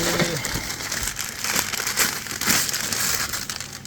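Wrapping paper crumpled and rustled while glasses are unpacked from a storage-unit box, giving a steady, close, noisy crinkle throughout.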